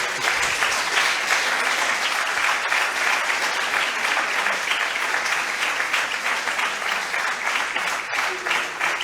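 Audience applause thanks the speaker at the closing lecture of a conference on women and mission, a dense, steady wash of many hands clapping that stays loud and continuous for the whole stretch, with no voices over it.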